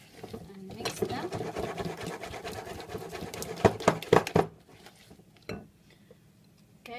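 Bicarbonate of soda and vanilla are stirred into cookie dough in a bowl, giving steady scraping and clinking for a few seconds, with a few sharper knocks before it goes quiet; a voice speaks over the mixing.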